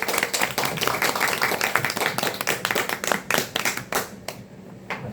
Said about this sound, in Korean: 큰 박수로 보내주세요.